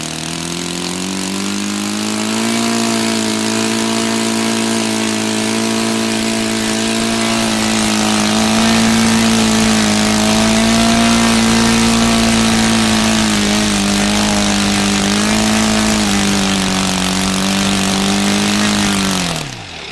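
An O.S. FT-300 model engine runs with an erratic carburetor, a loud, steady droning hum whose pitch wavers slightly and dips toward the end before cutting off.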